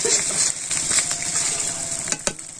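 Vegetables with ginger fry in a pan with a loud, continuous close-up sizzle. Stirring adds a light rhythmic scraping, and a couple of sharp clinks come near the end.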